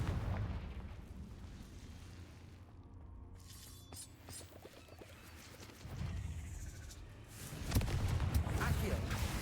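Confringo fire spell blasts in the Hogwarts Legacy video game, with bursts and crackling explosions over a rumbling battle bed, under an occasional voice calling spells.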